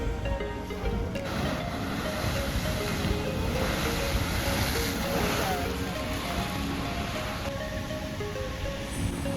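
A Yellowstone geyser erupts and splashes with a loud, continuous rushing roar of water that holds for several seconds, while faint crowd voices murmur in the background.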